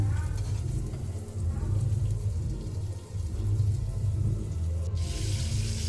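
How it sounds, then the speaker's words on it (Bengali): A covered pot of shrimp and taro stolon curry boils steadily, giving a continuous low bubbling rumble with a soft hiss that brightens briefly near the end. "এবার ঢাকা দিয়ে আমি এটা ফুটিয়ে নেব।"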